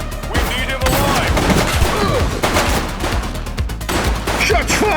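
Gunfire in The Precinct, a police video game, with loud, dense bursts of shots repeating through the scene, some sharp single cracks among them, and faint voices mixed in.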